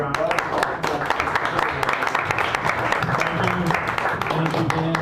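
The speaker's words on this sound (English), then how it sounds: "give them another round of applause" Clapping from a small audience at a poetry night in a San Francisco cafe, a steady patter of hands with voices talking underneath.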